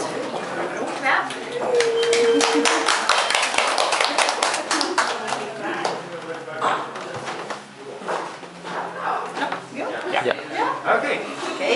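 Guests at a graduation dinner clap in bursts of sharp, close, scattered claps, mixed with chuckles and talk throughout.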